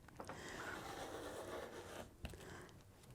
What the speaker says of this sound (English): Let's cut some batting.